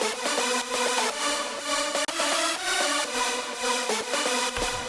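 Layered supersaw synth chords built in Serum, a bright, thick, sustained pad pulsing in a steady rhythm with short chord changes, loud and alone without talk.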